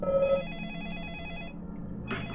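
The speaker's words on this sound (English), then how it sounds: "Well, the phone's ringing" A telephone rings in the video game Deadly Premonition: a clear electronic warbling ring pulsing in quick repeats, then a short burst, heard alone without talk.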